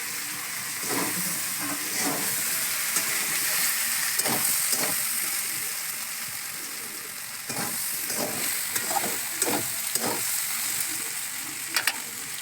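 Bitter gourd sizzles steadily in a hot pan with turmeric, with intermittent scraping and stirring knocks over the continuous frying hiss.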